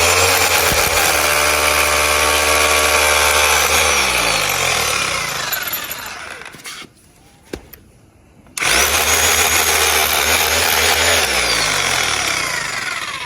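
A power drill bores holes for fixing wire mesh fencing, running loud and continuous for several seconds, stopping briefly with a faint click, then starting again at full speed.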